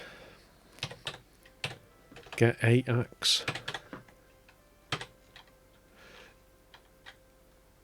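Uneven keystrokes clacking on a VIC-20 computer keyboard, close and sharp with bursts and pauses, while someone speaks briefly in the middle.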